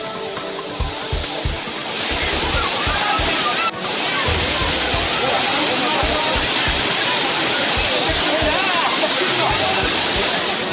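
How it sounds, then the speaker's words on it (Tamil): The Kumbakkarai waterfall pours in a constant, full rush of water while tourists bathe beneath it, with voices and splashing mixed into the steady roar. "அருவியில் சீராக விழும் நீரில் சிறுவர்கள், பெண்கள், இளைஞர்கள் குளித்து உற்சாகமடைந்தனர்."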